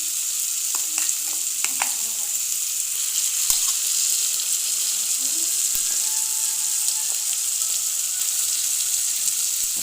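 A masala of onion, tomato and ginger-garlic paste fries loudly in a pan for a desi chicken curry, a constant sizzle broken by scraping stirs and a few clinks of the spoon.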